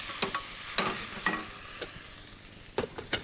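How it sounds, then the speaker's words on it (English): Leeks, onions and fennel stirred gently in a pan as they sweat, with soft sizzling and scattered scraping stir strokes, close and quiet. "the leeks, the onions, and the fenouils. You've got to stir it gently"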